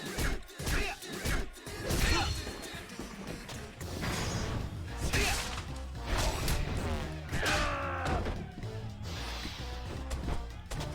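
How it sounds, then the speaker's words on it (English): Furniture smashing during a brawl in the video game Yakuza 5, with repeated loud crashes, thuds and whooshing swings over busy game music and effects. "I will beat you with one of your chairs."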